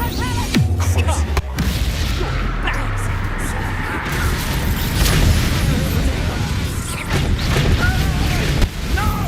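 Bombarda spell blasts in the game Hogwarts Legacy, several loud booms and crashes mixed with combat effects and character voices over about nine seconds.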